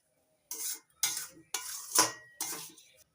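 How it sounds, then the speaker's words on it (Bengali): Five distinct scraping strokes of a spoon against a pan as semolina fries with vegetables, evenly spaced about half a second apart, with a faint dry rustle of grains and quiet between. "সবজির সঙ্গে সুজিটা ভালো করে ভেজে নেব"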